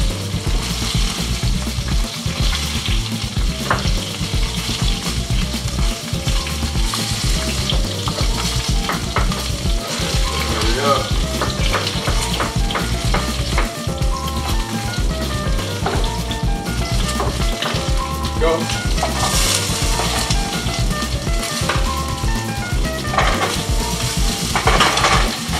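Onion sautés in butter with rosemary in a pan, making a loud, continuous sizzle with frequent stirring scrapes and clinks throughout.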